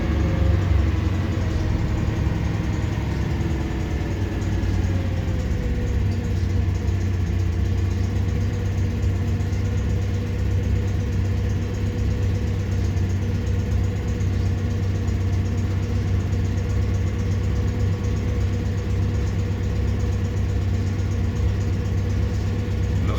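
A Citroën 2CV AK van's small petrol engine idles steadily close by with a constant low-pitched chug, the choke partly pushed in, running alone without voices for the whole stretch.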